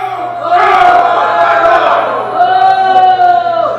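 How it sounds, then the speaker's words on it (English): A wrestling crowd loudly boos a wrestler named Holden Albright, a sustained roar of many voices swelling near the start and continuing without a break. "Now, sure they're booing him now"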